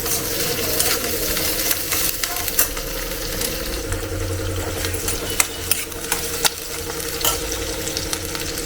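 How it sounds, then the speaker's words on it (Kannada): Onion and garlic fry in a pan with a dense, steady sizzle, while a utensil stirs and taps against the metal in scattered sharp clicks close by. "ಇದರಲ್ಲಿ ಈರುಳ್ಳಿ ಬೆಳ್ಳುಳ್ಳಿ ಎಲ್ಲ ಹುರಿತೀವಿ"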